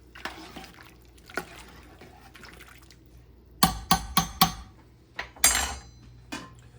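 A spoon stirs peppers and celery into a pot of Gullah-style chicken bog, giving a quick burst of four or five close metallic clanks against the pot after soft, faint clinks and a wet swishing.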